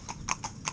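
A pair of horses hitched in tandem to a carriage, their hooves clip-clopping faintly in a quick run of four light, evenly spaced strikes.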